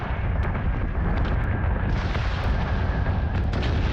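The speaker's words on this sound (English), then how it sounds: "watch it melt under a hail of Berserk gunfire" A dense, continuous barrage of rapid gunfire and blasts from Berserk warships in a space video game roars without pause, loud and close, with sharp cracks poking out of the din.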